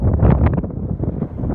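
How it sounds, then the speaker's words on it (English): Strong wind buffets the microphone on Ben Nevis in Scotland, a close, loud, gusting rumble that surges and dips in quick bursts, with rain falling. "It is very, very windy"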